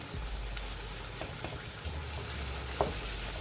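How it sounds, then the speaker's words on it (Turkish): Tomato and pepper paste frying in a pan: a quiet, even sizzle with faint crackle and a few soft stirring scrapes, no voices. "Salçasıyla birlikte epeyce bir kavurun arkadaşlar"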